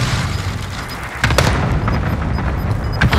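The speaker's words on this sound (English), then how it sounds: "Allied cluster strike arriving." Cluster strike explosions on Caldera in Call of Duty, a string of heavy booms and thuds with sharp cracks, loud and close, with no talk.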